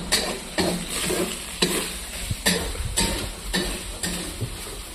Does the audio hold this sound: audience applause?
no